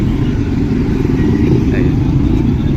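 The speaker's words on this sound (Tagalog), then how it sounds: "So, may mga tricycle doon." Motorcycle tricycles pass along a busy Philippine market street, their engines a steady mid-range drone under constant crowd murmur and background voices.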